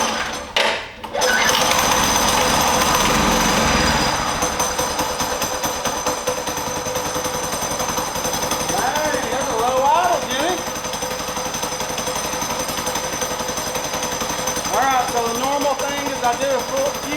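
A stock mini bike engine runs on a dyno, rattling loud and rapid after a few sharp starting bangs, then settling into a steady hammering drone while voices whoop and talk over it.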